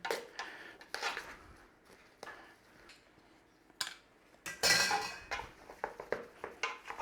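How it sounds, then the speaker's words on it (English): A utensil mixing chopped onion into mashed potato in a bowl, heard as irregular clinks, scrapes and taps against the bowl, close and fairly quiet, with a busier burst of knocking partway through. "And then all we're doing is just adding that to our mashed potato. I'm just going to give that a little mix in."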